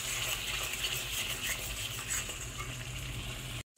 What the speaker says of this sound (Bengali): অল্প অল্প জল দেবো আর মশলাটাকে এভাবে কষিয়ে নেব